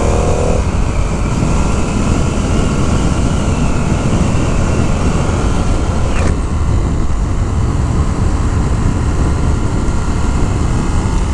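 A 2019 Indian FTR 1200 S motorcycle rides along, its engine a loud, steady roar mixed with heavy wind rush up close, with a brief rising whine partway through and no talk.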